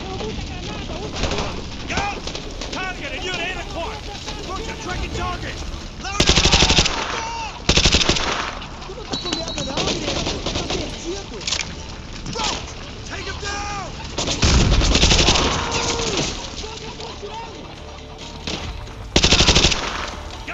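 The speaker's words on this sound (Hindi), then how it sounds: "गाड़ी में दो तीन गोलियां मार तो फटी गई हो" Loud bursts of rapid gunfire and heavy blasts, including a vehicle being shot until it explodes, recur over constant noise in Call of Duty mission The Hornet's Nest, with people talking throughout.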